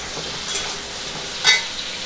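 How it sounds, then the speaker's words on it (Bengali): Chicken fries in a pan with a short, steady hissing sizzle and one brief louder spatter partway through, close by with no talk. "আর এটা চিকেন রান্না করব, সবে বসিয়েছি"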